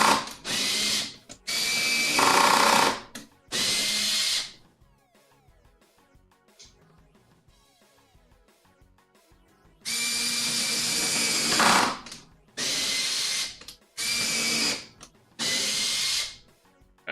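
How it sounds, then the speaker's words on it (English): A power drill bores holes and drives screws into the shelf of a shop utility cart, in several loud, close whirring bursts of a few seconds each, separated by quieter gaps with faint handling clicks. "I'm gonna go ahead and start drilling holes. Set more screws."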